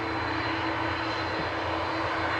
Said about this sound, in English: Get ready for these CF6 engines. These are super loud by comparison to everything else that goes from here.